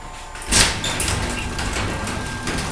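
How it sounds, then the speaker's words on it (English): A garage door rolls open with a sudden loud rumble that settles into a steady mechanical rattling hum, close by and with no one talking. "So I'll open up the garage door."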